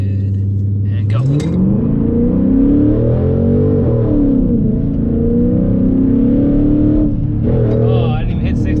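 A Dodge Charger SRT with a tuner launches from about 1500 rpm: the engine idles, then leaps into a loud roaring rev that climbs and rumbles through the run, heard close from inside the car with the driver talking over it.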